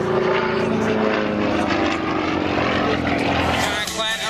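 A Russian-built aerobatic propeller airplane's engine roars steadily and loudly throughout at an airshow, its pitch shifting slightly as it maneuvers, with a voice talking over it.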